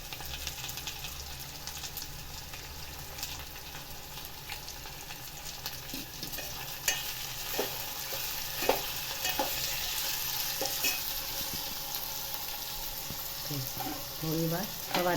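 Bitter gourd peel chutney frying in a pan with garlic and coriander paste, a continuous moderate sizzle with occasional stirring clinks and scrapes near the end.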